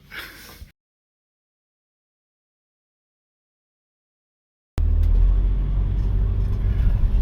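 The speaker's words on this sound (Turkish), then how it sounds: "Evet şimdi araca bindik." A road vehicle carries riders from a hotel to a port in Thailand. After a brief muffled stretch and near silence, a steady loud low engine and road rumble fills the cabin.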